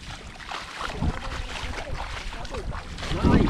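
A boat's engine rumbles close by under splashing water and wind, with brief bursts of nearby noise.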